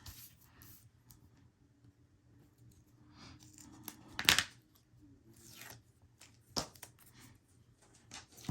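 Teflon scissors snip adhesive floral-print paper in a quiet room, with a few sharp isolated cuts and rustling handling of the paper between them.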